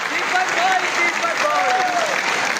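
Applause from the crowd at a mushaira poetry gathering in New Delhi rolls on steadily while a voice speaks over the clapping.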